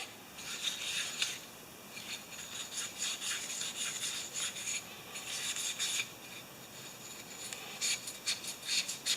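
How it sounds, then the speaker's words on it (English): Steel wool scrubs the bowl of a Mastercraft 8-26 snowblower carburetor, giving steady raspy rubbing strokes in bursts with short pauses, close and moderately loud, with no voices. "I'm just going to clean this bowl with some steel wool"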